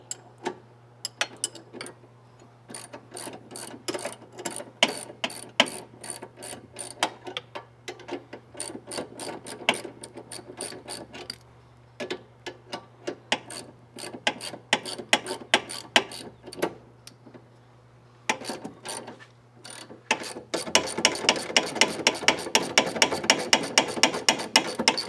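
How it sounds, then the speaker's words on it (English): A 17 mm ratchet and wrench tighten sway bar bolts on a Subaru WRX, giving rapid rhythmic clicking in bursts with short pauses, close and crisp, speeding into a fast continuous run of clicks near the end. "Let's grab our 17 millimeter ratchet and wrench."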